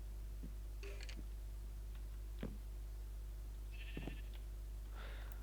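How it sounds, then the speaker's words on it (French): Several short sheep bleats from a video game rise one at a time at scattered moments over a steady low hum, fairly faint and with no talking. "maintenant taisez-vous les moutons, j'ai peur de vous"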